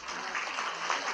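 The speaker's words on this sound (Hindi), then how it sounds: "जोरदार तालियां उनके लिए भी जिन्होंने बच्चों की तैयारी कराई है" Audience applause at a junior students' Hindi debate, a dense, even patter of clapping from a crowd that stays fairly steady for about a second, moderately loud.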